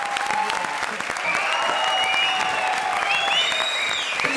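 A studio audience at a comedy show breaks into loud, continuous applause close up, with thin whistle-like cheering tones rising above the clapping through most of the stretch.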